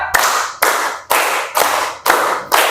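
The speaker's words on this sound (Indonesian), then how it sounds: "Tepuk tangan untuk kita semua" A classroom group claps together in rhythm, with six loud, sharp bursts of hand claps spaced about half a second apart and each one fading quickly.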